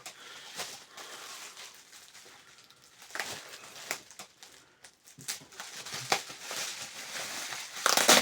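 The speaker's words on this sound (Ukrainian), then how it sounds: "Ножиці знайшов, будемо розпаковуватися." A package holding a Graphiteleader Finezza Prototype GOFPS-702UL-S fishing rod being unpacked after scissors are found: irregular crinkling and rustling of wrapping material with scattered sharp crackles, close and moderately loud, rising toward the end.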